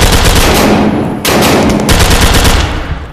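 Sustained automatic gunfire rattles loudly and continuously in the VR shooter Tactical Assault VR as the player is hit, dense bursts with a brief dip in the middle and no talk over it.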